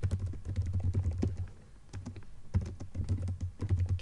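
Keys clatter on a computer keyboard in quick, close bursts of typing with a short pause midway, steady and clear with no voice over it.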